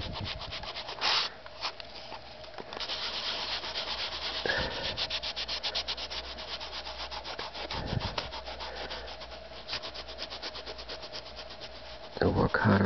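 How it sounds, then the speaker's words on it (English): Steady hand rubbing with rubbing compound on the roof of a Lionel 1630 passenger model train car, a continuous close scrubbing and sanding-like swish with brief pauses and a few knocks. "So with the rubbing compound, I'll get the worst out."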